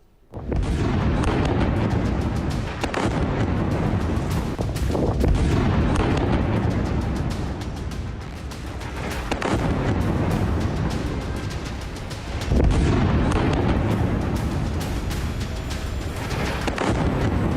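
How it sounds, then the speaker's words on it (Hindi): Israeli bombing of Dahieh in Beirut produces a loud, continuous roar of blasts and rumbling, with a few sharper booms standing out along the way and no voices. "बेरूत की दहिया में इजराइल की ये बमबारी बेहद खौफनाक संदेश देती है"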